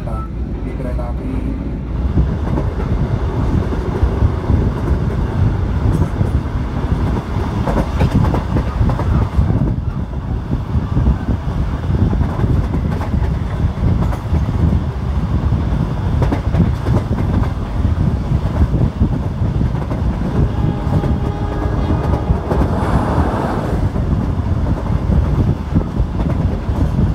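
The KA Manahan passenger train runs from Solo to Purwokerto with a steady, loud rumble and rail clatter from start to finish, and voices can be heard over it.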